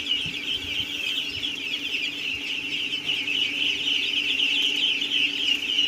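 Fifteen-day-old ducklings feed on eggplant and water, giving a steady, dense chorus of high peeping and chirping from many birds close by that runs unbroken throughout, with no talking.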